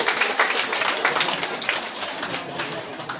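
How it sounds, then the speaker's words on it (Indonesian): An audience clapping for a priest, brisk scattered applause with voices murmuring underneath, fairly close and moderately loud throughout. "Kita semua tepuk tangan untuk RD Yohanes Belang"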